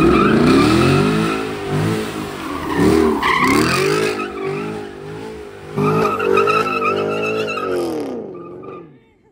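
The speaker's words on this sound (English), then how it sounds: "Don't hit my whip, car." A car close by revs hard, its engine pitch climbing and falling repeatedly while the tires squeal and skid, loud and sustained before it abruptly stops.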